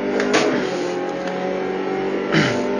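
Race car accelerating on Circuit Gilles Villeneuve, a loud close engine revving hard with quick upshift dips, roaring steadily through the short stretch.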